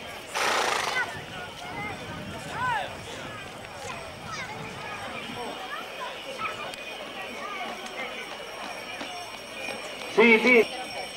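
Horses carrying riders pass in front of a stage at an outdoor riding event in Sardara, with scattered hoof clatter and a brief whinny amid crowd murmur and a public-address voice, plus a sharp louder burst near the end.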